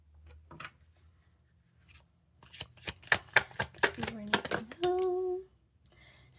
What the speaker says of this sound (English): Let me shuffle this really quick.